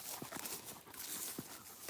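Horses moving about a pasture, with a few scattered soft hoof thuds or snorts at uneven intervals over a low, steady outdoor background.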